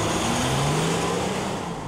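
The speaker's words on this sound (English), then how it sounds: "this is the optional diesel engine" A 2012 Mercedes-Benz ML350 BlueTEC diesel engine runs with a steady, broad, close rumble and a faint low drone, no talking.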